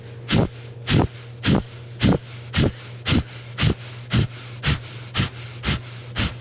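Slow, deep breathing with about a dozen evenly spaced breaths, each a strong airy rush close to the mic, separated by short quiet pauses; no one speaks.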